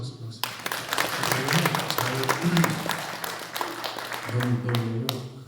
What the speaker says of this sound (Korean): 이 임성훈 장로사님 박수.